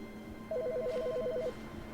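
In The Stanley Parable, an office telephone rings in one fast two-tone electronic warble lasting about a second. It is clear but not loud and is heard alone over a quiet hum.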